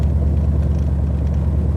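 A hot rod nicknamed the Red Baron has its engine running with a loud, steady, deep rumble and throaty grunt. It is heard close up and continuously, with no speech.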